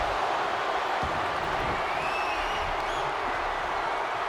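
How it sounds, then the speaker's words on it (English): Large arena crowd roaring steadily at WrestleMania during a fatal four-way women's match, a dense, continuous wash of cheering with scattered whistles and shouts, loud and sustained throughout. "Listen to this crowd."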